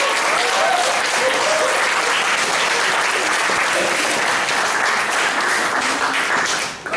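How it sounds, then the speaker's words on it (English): A Toastmasters club meeting audience claps in steady, dense applause that holds loud and even for about seven seconds before tapering off at the very end. "let's give a big round of applause"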